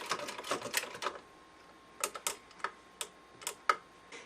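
A vintage straight stitch sewing machine fitted with a zigzag attachment runs in short mechanical bursts, a rapid clattering run at first, then a few separate single clacks after a pause, close and fairly quiet.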